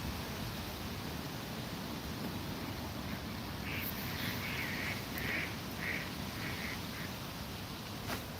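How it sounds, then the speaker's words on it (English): Ducks quack in a short run of calls, fairly faint and distant, over a steady wash of outdoor noise. "There's ducks there."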